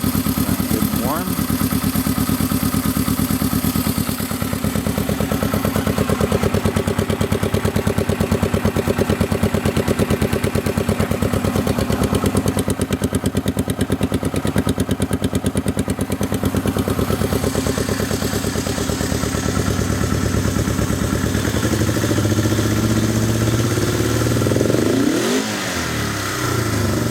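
A 1971 Honda motorcycle engine with a brand-new motor runs steadily after its first start, a loud continuous idle with slight changes in pitch late on as the idle is adjusted.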